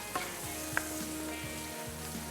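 Tomatoes fry in a pan for aloo matar biryani, with a steady close sizzle and a few faint spoon scrapes and taps against the pan, and no talking.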